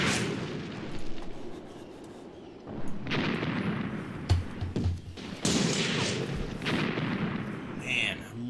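A Soviet mortar barrage in the war game Graviteam Tactics: Mius Front brings repeated heavy booms and rumbling impacts that rise and fall across the scene, with a voice talking over the bombardment.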